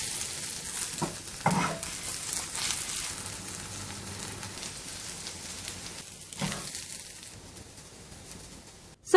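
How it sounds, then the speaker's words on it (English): Breaded pork chops searing in a hot pan, a constant close sizzle and crackle with a few louder bursts and clatters of a utensil, no talking. "once we have seared our pork chops"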